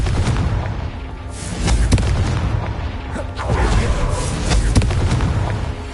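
Explosive Confringo spell in a PS4 video game, a loud, dense series of booming blasts and crackling bursts close up, with heavy low rumble and a couple of sharp pops running through the whole stretch.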